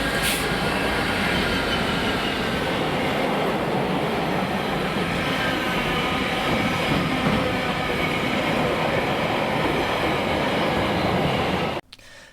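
Class 66 locomotive 66001 hauling a freight train from Seaforth to Mossend through Scotland, a loud, steady, continuous roar of wagons and wheels rolling past close by for many seconds, then cutting off abruptly.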